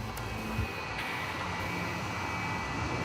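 A jet aircraft taxiing at Atlanta's airport, heard as a faint, steady engine whine and hum with a thin high tone running throughout, distant and without voices.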